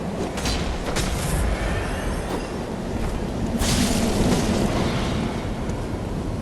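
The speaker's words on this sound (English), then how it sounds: "Oh my god, what an explosion." Huge explosion in the Bloodborne boss fight with Ludwig, a loud sustained roar of noise with sharp bursts near the start and a heavier surge in the middle, no talking over it.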